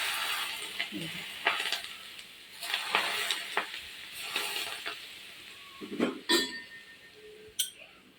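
Pickle being stirred with hot mustard oil in a bowl, with a sizzle of hot oil, soft scraping of the spoon and a few sharp clinks against the bowl, close and fairly quiet, with no talking.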